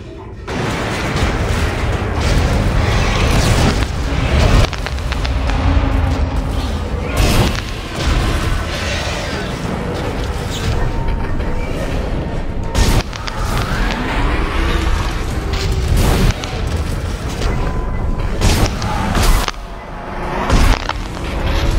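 Missile explosions in Dead Space 2 thud and boom in heavy repeated blasts over a dense, loud rumble of game noise, with occasional sharp impacts and a person talking faintly underneath.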